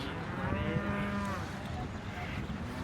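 A cow with a cut tongue moos loudly nearby at a cattle market in Kushtia, one long drawn-out low call, with faint background murmur around it.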